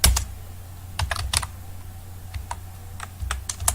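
Light, scattered keystrokes on a computer keyboard while typing code, close by and quiet, with uneven clusters of taps and short pauses in between.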